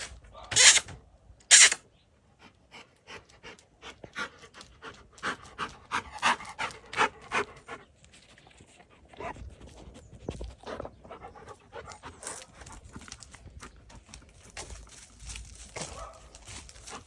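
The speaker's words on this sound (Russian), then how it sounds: "Это соседская собака. Она обычно лает на меня, но сегодня решила быть доброй." A neighbour's dog pants close by in a garden, two loud rapid bursts at the start, then softer rhythmic panting continuing with some rustling in the background.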